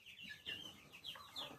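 A turkey calls with a few short clucking, warbling notes, close and fairly loud, given alone without talk.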